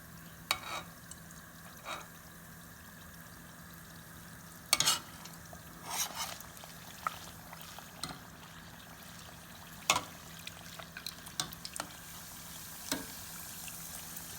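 Steady sizzling of a scotch egg frying in hot oil, with scattered louder crackles and clinks of a spoon against the pan, close by.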